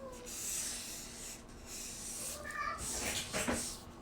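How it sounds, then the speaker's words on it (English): Domestic cats scuffling and meowing in the background of a quiet indoor room, with faint rubbing and scratching noises and a few brief higher cries rising near the end. "Can you guys hear my cats going nuts in the background?"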